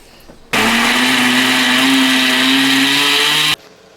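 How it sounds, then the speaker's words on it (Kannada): A mixer grinder whirs loudly for about three seconds, blending fenugreek chutney, starting and stopping abruptly with a steady motor whine between quiet pauses. "ಒಂದು ಸರ್ತಿ ಮಿಕ್ಸಿ ಮಾಡ್ಕೊಳ್ಳೋಣ"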